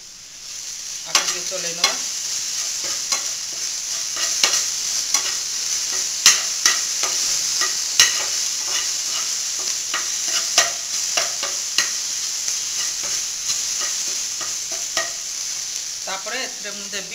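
Cumin seeds sizzling in hot oil for a fish egg curry: a constant loud frying hiss with scattered spatula scrapes and clicks as the pan is stirred, and a few words spoken briefly.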